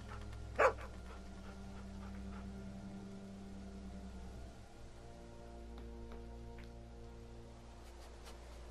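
A dog in The Walking Dead video game gives one sharp yip, then faint whimpers and soft whines over a low, steady ambient hum, with no talking.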